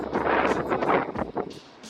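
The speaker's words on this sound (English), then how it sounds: "It is super windy." Strong gusts of wind buffet the microphone, a heavy roaring rush that swells and dips without pause.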